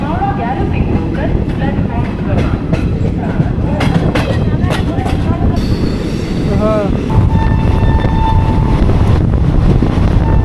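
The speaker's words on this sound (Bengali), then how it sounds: "সাতারা এক্সপ্রেস শিয়ালদা থেকে ছেড়ে আসার পরে মাত্র চারটে স্টপেজ দিয়েই পৌঁছে যাবো আমরা বোলপুর শান্তিনিকেতন" The Satara Express passenger train runs on the rails near Bandel with loud, close wheel rumble, rhythmic clicking over the joints and brief metallic squeals, while people talk over the din.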